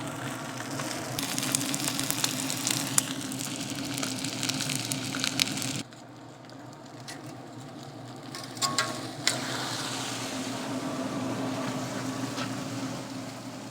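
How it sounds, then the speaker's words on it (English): Meat sizzles on a Z Grills grill, a broad crackling hiss, briefly dropping to a quieter crackle midway before the loud sizzle returns. "And then we sizzle."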